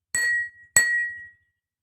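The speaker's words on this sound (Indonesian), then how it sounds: "Kita akan mengetuk gelas dengan menggunakan sendok." A metal spoon strikes a glass of water twice, each tap a bright ringing clink that hangs and fades slowly, the second note lingering longer; no voices.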